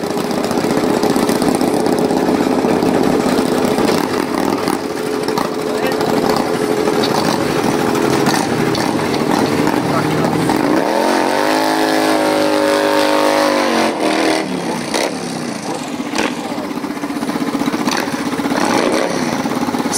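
Audi race car engine idling at a German drag race event, a loud steady rumble with a rising rev swell midway, surrounded by constant crowd and track noise.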